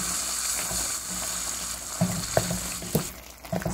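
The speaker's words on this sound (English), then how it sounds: "sautéing till the rinds are cooked well" Watermelon rinds cook in a pan for curry, giving a low continuous sizzle and bubbling hiss, with a few scraping stirs near the end.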